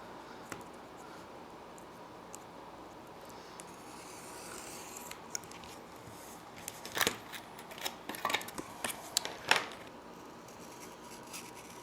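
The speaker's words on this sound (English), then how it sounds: "Cutting it about a little more than halfway, but not through, on each side." A blade scoring partway through a board for a diorama, faint scraping strokes at first, then a cluster of sharper cuts and clicks close by near the end, with no talk.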